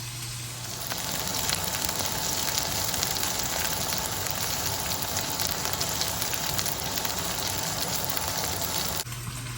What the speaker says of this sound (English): I'm going to let that sear 2 to 3 minutes on each side